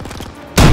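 A single heavy launcher blast bursts through a weak wall in the World War II shooter Call of Duty WWII, a sudden loud boom at the end after a brief low rumbling lead-in.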